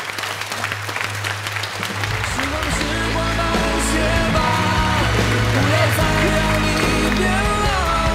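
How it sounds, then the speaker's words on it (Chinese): A TV talk-show studio audience breaks into sustained applause as an elderly father is welcomed onto the stage, the clapping building and holding loud over swelling background music. "掌声有请李叔叔"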